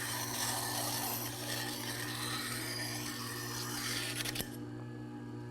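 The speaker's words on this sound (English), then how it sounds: "this is a form scraper, which is very problematic to file, and yet we're grinding it easily here" Steady, abrasive grinding hiss of a JET JSSG-10 tool sharpener working a steel form scraper, a continuous motor hum beneath, ending with a brief scrape as the grinding drops away to the motor alone.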